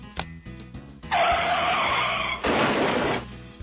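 A car crash skid sound effect from a road trip card game for iOS: two loud, sustained bursts of synthetic tire screech, one right after the other, following a few soft electronic blips.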